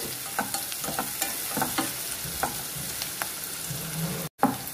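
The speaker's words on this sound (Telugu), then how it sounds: "ఉల్లిపాయలు కరివేపాకు వేసి లైట్గా దీన్ని కలుపుకుంటూ ఫ్రై చేసుకోవాలి" Sliced onions and curry leaves stir-fry in oil in a pan for a bottle gourd curry, giving a steady close sizzle with light spoon scrapes and a brief dropout near the end.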